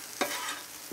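Vegetables shoved across a hot pan, a steady soft sizzle broken by two short scraping pushes a moment apart.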